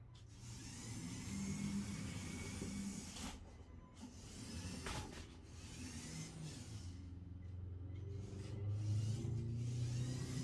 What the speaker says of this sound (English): we'll get it down on the floor and we'll take it for a little test drive